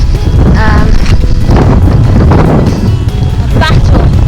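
Strong wind batters a microphone on the hilly, bleak Isle of Wight coast, a loud continuous buffeting roar with a voice speaking over it.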